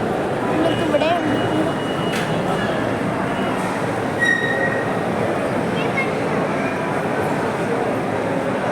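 Metro train running in a busy station, a steady rumbling rail noise with brief wheel squeals and clanks throughout, loud and close, with voices talking over it.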